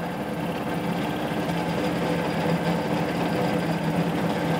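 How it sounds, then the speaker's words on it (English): A Vespa/Piaggio scooter engine idles steadily, a close, continuous low mechanical drone with a fast, even pulsing rhythm that holds at a constant level throughout, with no talking. "what we're going to do is go ahead and start the scooter"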